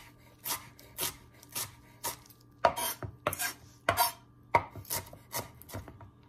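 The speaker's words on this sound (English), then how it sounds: "Chopping cilantro" A knife chops fresh cilantro with its stems on a cutting board while guacamole is being made at home, about a dozen crisp, uneven strokes in close succession with no talking.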